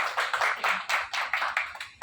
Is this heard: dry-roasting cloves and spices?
no